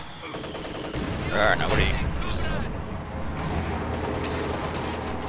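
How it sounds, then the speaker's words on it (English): Heavy mortar fire in a Company of Heroes style WWII strategy game match, with Soviet guard and mortar units; booming shots under a commentator's talk amid general battle noise. "Yes, that is a heavy mortar."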